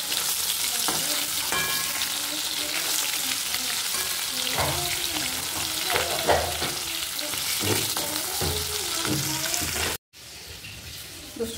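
Fish fries in a pan in a home kitchen with a loud, steady sizzle and crackle, broken by stirring scrapes, before cutting off abruptly near the end.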